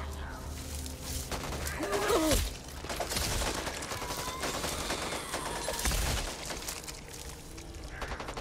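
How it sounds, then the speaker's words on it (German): Gunfire rattles from the zombie shooter Back 4 Blood in steady automatic bursts, mixed with game effects and brief voices, loud and continuous throughout. "Du hast auf mich geschossen!"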